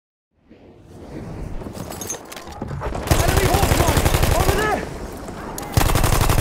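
An enemy machine gun fires in Battlefield 1 conquest gameplay as loud, rapid sustained bursts. A stretch of rumble and whooshing comes before the bursts, and battlefield voices shout over the gunfire.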